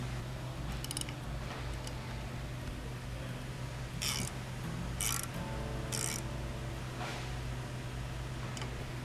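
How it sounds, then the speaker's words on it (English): A ratchet tightening ditch light bracket bolts on a 2022-or-newer Nissan Frontier, with a few short clicking bursts spaced apart over a steady low hum, fairly faint. "just go ahead and tighten everything up"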